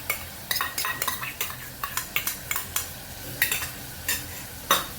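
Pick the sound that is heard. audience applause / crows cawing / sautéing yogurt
sautéing yogurt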